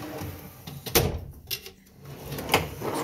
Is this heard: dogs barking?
no